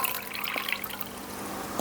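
Water is poured from a cup into a mixer jar for dosa batter, giving a brief, soft, splashy trickle with a few small drips, fairly close and quiet.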